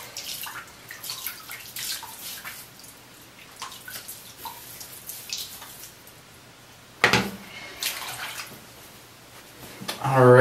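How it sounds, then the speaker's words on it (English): Hands splash water onto a face before a wet shave, giving soft intermittent splashes and drips, with a sharper splash burst partway through and another near the end. "I'm going to go ahead and take the bloom water and add it to my face."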